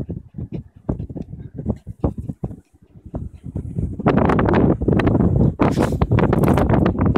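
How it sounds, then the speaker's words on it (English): Gusty wind buffets the microphone, growing loud and constant in the second half, with a few bursts of rustling and brief noises earlier on. "It is windy, isn't it?"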